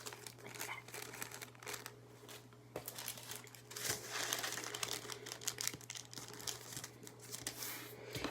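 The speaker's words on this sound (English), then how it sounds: "you're going to take those straight edges and you're going to fold them up to that center fold like that" Paper being folded and creased for an origami lotus, soft crinkling and rustling with small sharp creases, close and fairly quiet, over a steady low hum.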